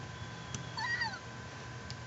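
A cat in the life-simulation video game Virtual Families 2 gives one short, clear meow over a quiet game background.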